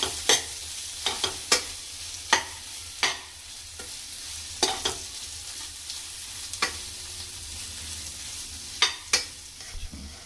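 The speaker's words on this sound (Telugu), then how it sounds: "బాగా కలిపెట్టుకోవాలి" A spicy egg curry mixture is stirred in a pan with irregular sharp scrapes and taps of a spoon over a soft, low sizzle, close up and without talking.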